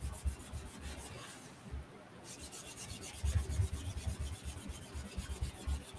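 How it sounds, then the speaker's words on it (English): Hand-buffing a product into a wooden tray with a cloth, giving a steady soft rubbing rasp with repeated strokes that briefly pause, then return stronger and closer. "Now I'm just kind of buffing it in."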